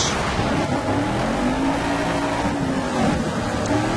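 Rally car engine from the racing video game Dirt 2, a steady droning roar with a slowly rising and falling pitch, loud and continuous with no talk.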